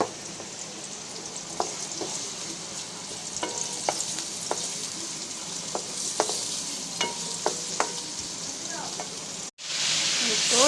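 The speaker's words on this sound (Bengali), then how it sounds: "আর এইদিকে ফুলকপি আর মাংস ভাজা হচ্ছে" Cauliflower and chicken fry together in a pan, giving a continuous close sizzle punctuated by regular scraping taps of a stirring spoon. The sound cuts out briefly near the end and then returns louder.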